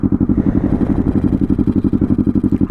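A 2016 Yamaha R3 motorcycle runs while being ridden, a loud close pulsing engine drone with a steady rapid throb and low rumble.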